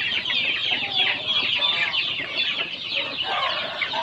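Chickens of mixed black breeds, small and large, clucking steadily and chattering together inside a pen on a poultry farm, a dense continuous chorus of fowl calls without speech.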